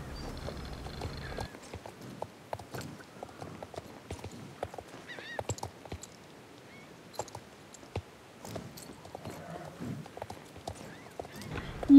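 Rapid horse hoof clip-clops in the video game Star Stable patter steadily at close range, with a few faint honks and whinny-like calls scattered in the background.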